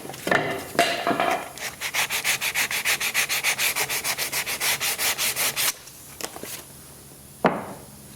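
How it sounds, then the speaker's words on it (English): Wood on an old desk being sanded: about twenty quick, even rasping strokes in a steady rhythm, close and fairly loud, followed by a few scattered knocks and a final scrape. "Need to sand this one too."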